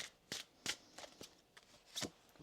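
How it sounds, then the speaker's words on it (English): A deck of oracle cards gets shuffled once more, giving five or six short, sharp papery riffles in quick succession, close up and soft, with no voice over them. "One more shuffle here."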